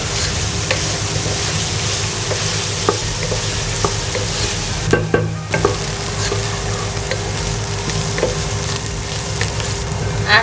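Onions sauté in hot oil in a pan for mutton keema, a continuous loud sizzle with frequent spatula scrapes and knocks, no voices.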